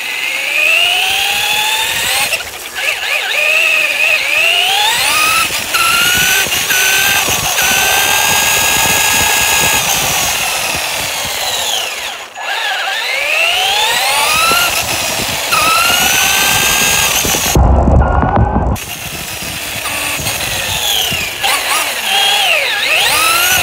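A small RC car's electric motor whines loudly and continuously through snow, its pitch sweeping up and down as it speeds, slows and reverses, with a brief cutout near the end.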